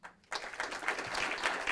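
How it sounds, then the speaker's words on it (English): Applause at a city council meeting for a military service member honored as member of the quarter: after a brief quiet moment, a room of people breaks into steady clapping that lasts to the end, moderately faint and evenly spread. "please give a big round of applause for the military member of the first quarter, Staff Sergeant Eduardo Castillo."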